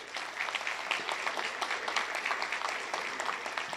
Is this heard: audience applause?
yes